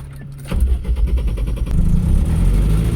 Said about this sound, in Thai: ลองติดเครื่องให้ดูนะครับ